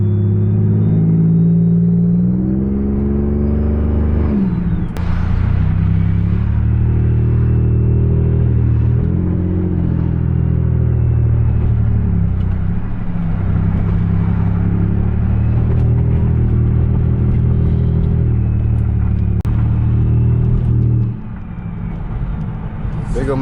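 A Chevy Impala LT with a 3.9L V6 and straight-pipe exhaust drones loudly from inside the car while driving, a deep steady rumble with pitch rising and falling as it shifts and accelerates, dipping sharply near the start and end.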